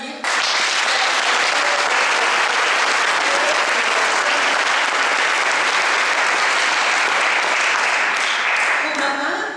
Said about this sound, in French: On peut à ce titre l'applaudir.